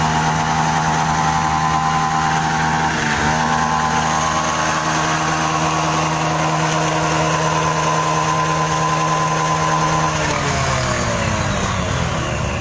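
Motorcycle engine idling steadily after being restarted from a stall caused by floodwater, a continuous close mechanical hum with a slight pitch shift partway through and no talk.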